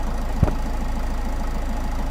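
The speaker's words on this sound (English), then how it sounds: "as you can hear, the engine is now running" A Toyota Auris D4D diesel engine, freshly fitted with a new fuel filter, idles close by in a steady low, rhythmic clatter with one brief knock near the start and no talking.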